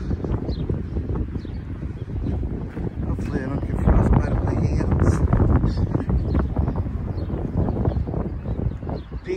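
Heavy, continuous wind buffets the microphone outdoors near old buildings, with a deep rumbling roar that swells and gusts throughout, loud and close.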